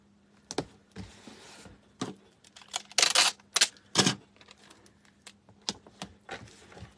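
Tape is pulled and pressed over a cardboard shipping box packed with a wreath, giving a string of sharp crackling rips and taps, close and fairly quiet, with a couple of louder tearing bursts midway.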